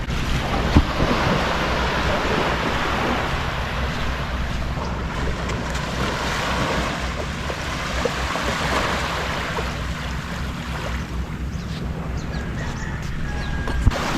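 Surf rolls in continuously on Port Barton beach in Palawan, Philippines, during an early morning walk, a broad steady wash of waves mixed with gusty wind buffeting the microphone.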